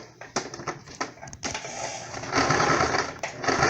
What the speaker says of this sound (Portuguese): é só colocar aqui na máquina, costurar dessa forma